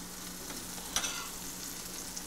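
About one and a half tablespoons of butter sizzle steadily in a hot pan, a close, even frying hiss with one brief louder crackle near the middle.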